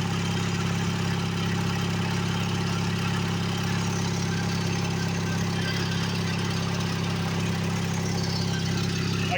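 A small Briggs and Stratton opposed-twin engine idles steadily for the whole stretch, a continuous low chugging drone with an even rhythm and no voices.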